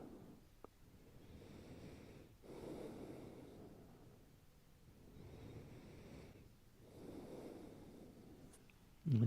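Slow, deep breathing during a yoga class: long soft inhales and exhales in a steady rhythm of about three breaths, close and quiet, with no voice over it.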